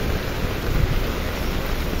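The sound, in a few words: heavy rain and flooding in Recife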